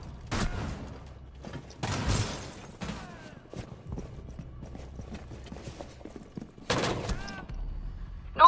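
Gunfire in a first-person shooter match, playing as the character Bliss: several loud bursts of shots, the longest two short volleys, with quieter game sounds and clatter between them and no talk.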